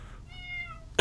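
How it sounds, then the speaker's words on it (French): Small cats meow on grassy plains full of animals in a survival video game; a single short, faint, high meow rises and falls, and a sharp burst of noise cuts in at the very end. "Des petits chats, des autruches."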